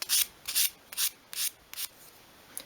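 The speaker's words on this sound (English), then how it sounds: "tidy that up again with a piece of fine grade" Fine grade sandpaper rubbed along the edges of a small wooden 1/12 scale miniature stool, six short rasping strokes in a steady rhythm, close and fairly quiet with pauses between strokes and no talking.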